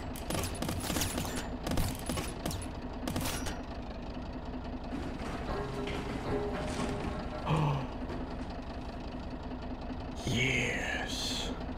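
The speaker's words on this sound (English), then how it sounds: "Time to get underneath and shoot the rest of you out." Gunfire in the Squirrel with a Gun game: rapid bursts of shots in the first few seconds, then a lower engine-like rumble with occasional mechanical noises, and speech running alongside.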